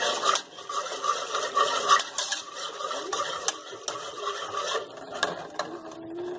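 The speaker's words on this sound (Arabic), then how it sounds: "غادي نخلط الخليط مزيان" A warm sugar and vanilla mixture for a Turkish dessert being mixed in a bowl, with a continuous rapid scraping and clicking of the utensil against the sides.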